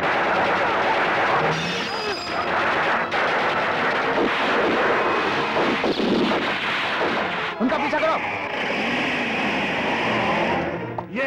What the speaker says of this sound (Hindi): गोलियां कौन चला रहा है?